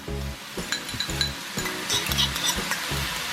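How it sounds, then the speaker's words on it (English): An egg is whisked in a small dish with a fork, a quick regular rhythm of light clinking strokes against the dish, close and steady, over a soft background hiss. "In a little dish here, I've got an egg, and I'm going to beat it up real good."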